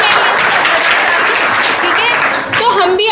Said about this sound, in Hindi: मैडम के लिए ताली बजा दो।